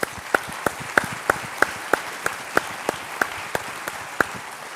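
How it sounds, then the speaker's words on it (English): An audience at a renewable energy summit applauds the speakers at the close of a morning session, with a few sharp, evenly spaced claps standing out near the microphone over a softer spread of clapping from the room. "I would like a round of applause to our speakers"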